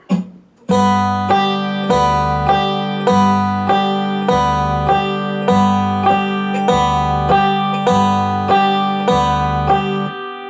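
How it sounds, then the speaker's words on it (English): A banjo plays a slow, even picking rudiment along with a metronome or strum machine at 50 beats per minute; after a short initial sound, regular plucked notes and a low chordal strum repeat steadily and clearly throughout. "With the metronome or a strum machine, at 50 beats per minute, it'll sound like this"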